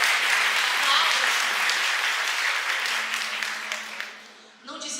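Congregation applauding at a church conference, a dense, loud wash of clapping that fades toward the end, with a voice rising briefly as it dies down.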